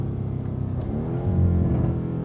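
BMW M8 Competition Gran Coupe, a 2020 car with a twin-turbo engine, on overrun as revs fall, a steady close low rumble with rising crackle and burble across about two seconds, no talk.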